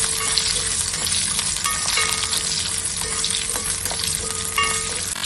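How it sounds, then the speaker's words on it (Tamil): Small shallots with a few garlic cloves frying in hot oil for a Kerala-style coconut milk tapioca dish, giving a steady, loud, close sizzle with crackling throughout and no talking. "இப்ப நம்ம அதே எண்ணெயில கொஞ்சமா சாம்பார் வெங்காயம் சேர்த்துக்கலாம்."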